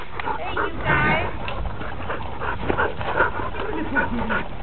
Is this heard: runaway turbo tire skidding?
no